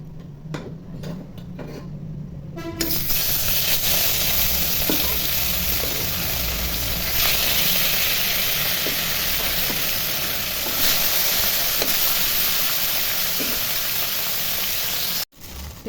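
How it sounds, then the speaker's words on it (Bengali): Tilapia fish pieces fry in hot oil, producing a loud, continuous close-up sizzle and crackle that runs steadily for about thirteen seconds after a few brief clicks at the start, then cuts off briefly near the end. "লবণ, তেল গরম হয়ে গেছে। এখন মাছগুলো ভেজে নিব।"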